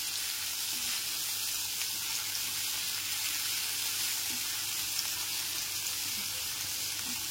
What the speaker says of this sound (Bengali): আলু আর ফুলকপিটা একটু সময় নিয়ে ভেজে নেব।